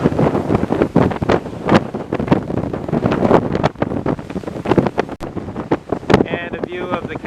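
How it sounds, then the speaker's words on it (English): Strong gusts buffet an outdoor microphone at Red Rock Canyon, a loud rumbling roar that rises and falls in irregular bursts throughout, with faint bird chirps near the end. "It's really, really windy today"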